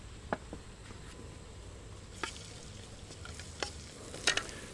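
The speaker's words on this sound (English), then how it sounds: "You don't want to burn the garlic, just let them gently fry." Garlic and chopped chili frying gently in a wok, a steady soft sizzle broken by a few clicks and scrapes of stirring, close and fairly quiet with no talk.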